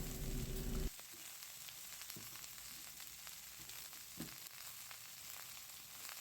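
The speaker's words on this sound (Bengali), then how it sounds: "ডুবো ডুবো করে কেটে রাখা আলু টমেটো আর কড়াইশুটিগুলো এর মধ্যে দিয়ে দেওয়া হলো" Potato, tomato and peas go into a wok of frying broccoli, with a loud burst of sizzling at first, then steady crackling and hissing throughout.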